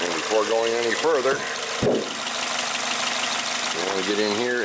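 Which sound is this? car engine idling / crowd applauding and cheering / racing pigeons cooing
car engine idling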